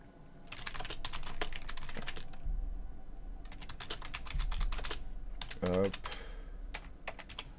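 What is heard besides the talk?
pressing keys on a computer keyboard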